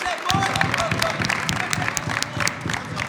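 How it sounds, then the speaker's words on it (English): Applause at an evening cricket awards ceremony: dense, steady clapping from a crowd begins after a brief pause and keeps going for about three seconds, with some voices mixed in. "Can we just give a big round of applause to them, please?"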